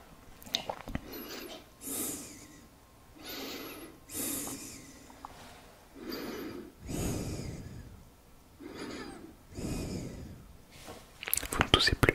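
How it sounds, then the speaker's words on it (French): A person takes deep breaths, with close, rhythmic inhales and exhales repeating about every couple of seconds, and quiet speech around them. "Respirez un coup."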